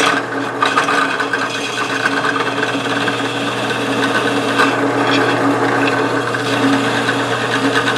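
A hand file faces off a metal piston on a homemade hand-engraving machine, producing a continuous, loud, rapid rasping scrape with a steady mechanical drone underneath and no clear breaks.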